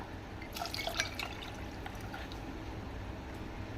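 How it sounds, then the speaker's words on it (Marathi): Cold water is poured into collected milk cream while making homemade ghee, a short trickle and splash near the start that settles into quiet dripping, with no voices. "आता यामध्ये आपण थंड पाणी टाकूया"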